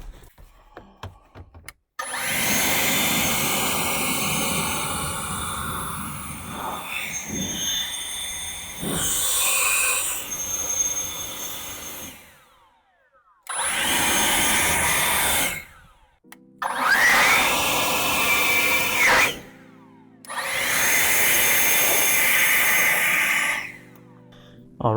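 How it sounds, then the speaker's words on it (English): A leaf blower blasts air into the vents of a 2002-2006 Acura RSX to clear dust, loud roaring bursts that start and stop several times with short pauses between. "I'm actually going to take my leaf blower, blow in here, blow in all the vents"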